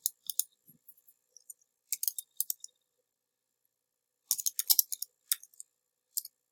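Computer keyboard keys tapped in short bursts of light, crisp clicks separated by silent pauses, with no voice.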